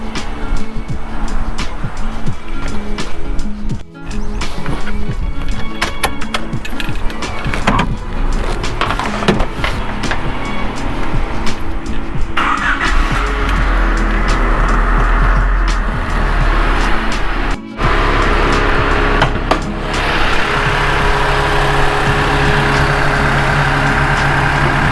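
A car engine idles steadily for the whole stretch while warming up after throttle-body cleaner was worked through the intake, a continuous close low rumble with small shifts in pitch and brief dips.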